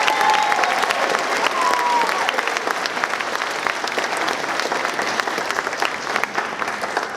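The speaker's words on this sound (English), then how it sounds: "Let's give them another round of applause." Sustained, dense applause fills a high school graduation ceremony for the class of 2022, steady and loud throughout with no speech over it.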